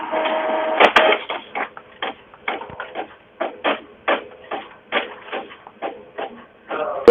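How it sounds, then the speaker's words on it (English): An office printer runs during a remote meeting, heard over a thin, phone-like line as a rapid series of clacking, rhythmic bursts separated by short pauses. "At least the printer works."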